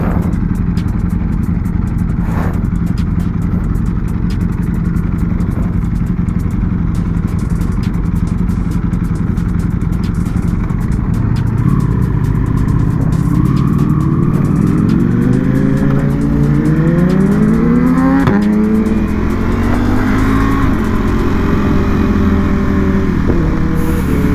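A new Ducati V2 Bayliss edition motorcycle engine drones steadily up close, then revs rise in a series of climbing sweeps as the bike rides off, with no talking.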